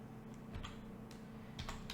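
Typing on a computer keyboard, a quick series of soft, close key clicks in an irregular rhythm, heard alone.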